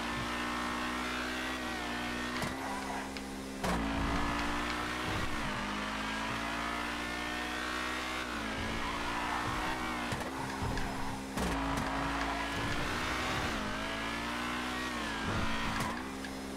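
A race car in the video game GTA FiveM, a Rapid GT variant, revs hard through repeated gear shifts and accelerations, with occasional tire squeal, loud and close throughout.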